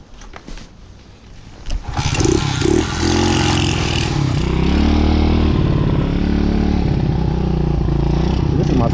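A motorcycle engine started on choke catches after a few brief cranking attempts, then settles into a loud, steady idle close by.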